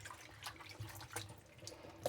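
Spinach is swished and washed by hand in a basin of water, with irregular splashes and sloshes that come in short bursts, close and fairly quiet with no talk.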